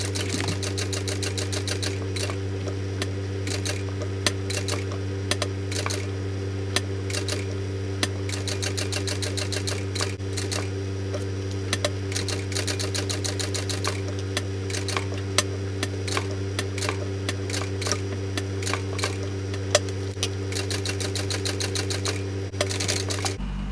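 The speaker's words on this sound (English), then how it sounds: "I'm going to start the top stitching on my band at the end, because this will be within the bag." A sewing machine top stitches the band of a small tote bag, running steadily and close with a constant motor hum and rapid, even needle ticking for the whole stretch, with no voices.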